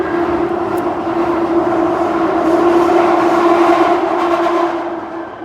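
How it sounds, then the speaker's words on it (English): A London Underground Jubilee line train roars loudly and steadily at close range, with a constant rumble and a strong tonal whine that holds for several seconds before easing slightly at the end. "The Jubilee line is also very loud,"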